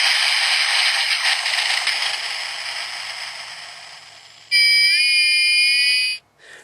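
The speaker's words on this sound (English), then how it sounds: "So that was the sound of the guns firing and that really loud screech" Transformers Battle Ops Bumblebee action figure toy firing a buzzy, rattling electronic gun-blast effect, then a loud, piercing high screech that cuts off abruptly, heard up close with no talk.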